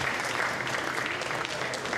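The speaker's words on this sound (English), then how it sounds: "Some good bit of applause" Spectators at a freediving pool world championship applaud in a moderate, steady wash of clapping that echoes in the indoor pool hall and sounds somewhat distant.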